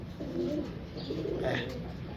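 A pigeon coos softly in a couple of low, rounded calls, heard close against faint background noise.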